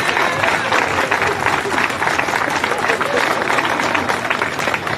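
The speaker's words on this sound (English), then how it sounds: "Give him another round of applause," An audience applauds at a municipal band concert, a dense, steady wash of clapping from a crowd filling the whole stretch, with a voice speaking over it.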